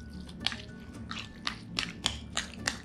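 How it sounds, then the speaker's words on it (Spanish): Tuna patty mixture with beaten eggs being stirred, giving soft wet squishing and dripping sounds in a short series of irregular strokes, close and fairly quiet. "Sigo revolviendo."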